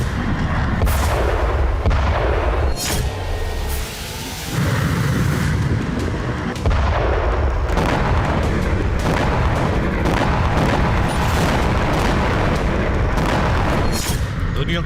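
A missile test by the United States, heard as continuous deep booming and rumbling, loud and close, with repeated heavy blasts over a sustained roar.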